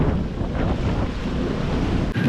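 Ocean waves and strong wind buffet a sailboat heading close-hauled against the waves, a continuous roaring wash with wind rumble on the microphone throughout.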